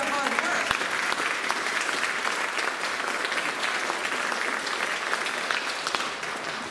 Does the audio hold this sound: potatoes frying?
no